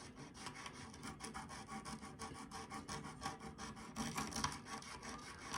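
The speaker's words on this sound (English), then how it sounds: "we're just gonna rub at about a 45-degree angle between the frets" Steady rasping strokes of a file or abrasive rubbing at a 45-degree angle along the fret edges of a Fender Stratocaster neck, with a close, rhythmic back-and-forth scraping that is quiet and continuous.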